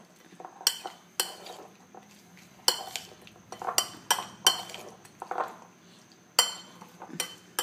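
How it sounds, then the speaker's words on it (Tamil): A spoon stirring rice in a metal pot, with a string of sharp scraping clinks and knocks in an irregular rhythm, close and fairly clear against a quiet background. "திருப்பி நல்லா மிக்ஸ் பண்ணணும்"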